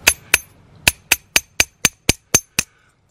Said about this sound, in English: As you hammer copper, it gets harder.